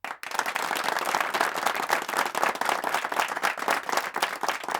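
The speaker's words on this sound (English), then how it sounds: "We'll give them a big round of applause for that." A crowd bursts into loud, sustained applause after a brief quiet moment, with dense clapping continuing steadily to the end.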